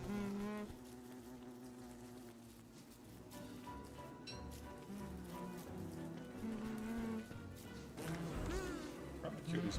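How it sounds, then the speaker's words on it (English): Bees buzz in the survival video game Don't Starve Together, a continuous droning hum with wavering pitch that swells and fades beneath game music and background sound. "Trying to kill these bees,"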